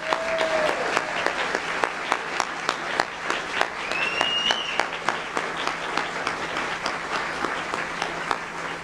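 Audience at a community awards ceremony gives steady applause, many hands clapping at moderate distance, with a few faint voices calling out over the clapping.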